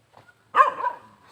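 A single sharp dog bark rises out of near silence after a few faint soft sounds, close and fairly loud, then trails off briefly.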